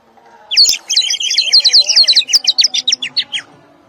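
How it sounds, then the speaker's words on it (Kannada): A water-filled bird-shaped whistle gives a bright, rapid warbling, sparrow-like chirps in quick bursts, close and fairly loud, with a lower wavering tone briefly underneath. "ಇದೇ ಪಕ್ಷಿಗೆ ನೀರ್ ಹಾಕಿದ್ರೆ ಸೇಮ್ ನಿಮ್ಗೆ ಗುಬ್ಬಚ್ಚಿ ತರನೇ ಸೌಂಡ್ ಮಾಡುತ್ತೆ"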